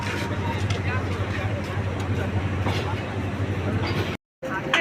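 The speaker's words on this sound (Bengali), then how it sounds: "এই তো ট্রেন ছেড়ে দিছে" A train pulls out of a railway station, giving a steady rumble with a low hum throughout. Crowd voices and talk sit under it, and a brief dropout near the end breaks the sound.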